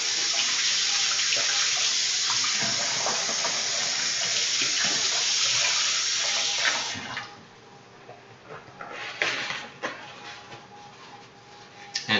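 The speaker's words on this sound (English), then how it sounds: "Wash my hands." Water runs from a kitchen tap as hands are washed after making oatmeal cookie dough, a steady loud rush for about seven seconds that then drops to softer, uneven splashing and dribbling.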